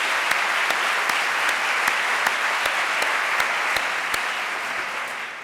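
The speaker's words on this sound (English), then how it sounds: "Please give another round of applause to Candace and to her mom for their hard work." An audience gives a round of applause at the 2013 Broad Prize announcement, a full, even clapping with a few sharper claps standing out, gradually easing off toward the end.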